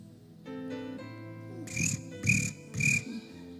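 A cricket chirps three times in an even rhythm, the short bright trills ringing over a steady tonal hum, with no talking.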